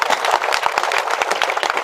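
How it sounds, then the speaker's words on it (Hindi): Crowd applause for wrestler Nikhil Yadav at a gathering honouring a South Asian wrestling gold medallist: dense, fairly loud rapid clapping from many hands, steady throughout without speech. "एक बार जरा मिजाज में लगाइए निखिल यादव के लिए ताली"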